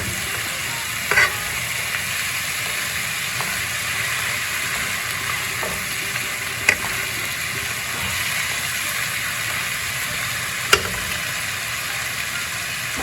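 Spices sizzle steadily in a hot pan with freshly added coconut, a continuous close frying hiss broken by a few sharp pops and crackles, with no talking.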